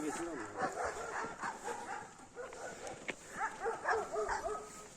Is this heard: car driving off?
no